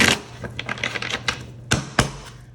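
A deck of tarot cards is shuffled by hand in quick bursts of riffling and flicking, ending with a couple of sharp taps as the cards settle, close and fairly loud with no talk.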